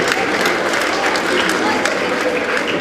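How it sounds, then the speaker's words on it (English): Sustained, dense audience applause for singing competition winners at a school event, loud and continuous throughout with a crowd murmur underneath. "Please have a round of applause"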